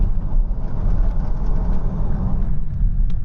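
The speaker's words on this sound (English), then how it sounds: "Can you hear that rattling noise?" A Vauxhall Insignia with a seized alternator pulley runs under load, giving a loud, close, continuous low engine drone with a rough rattling texture and no speech.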